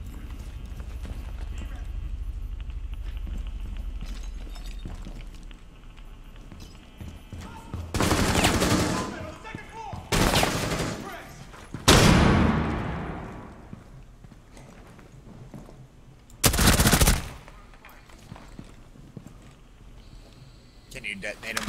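Bombs going off in a video game, heard as several loud, sharp blasts with decaying tails spread over the span, set against a busy game soundscape of mechanical clatter and rapid gunfire-like noise.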